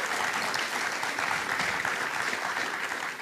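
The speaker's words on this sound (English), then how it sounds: "we should clap that" An audience at a ribbon-cutting ceremony breaks into steady, dense applause that continues evenly through the whole moment, many hands clapping at once with no single clap standing out.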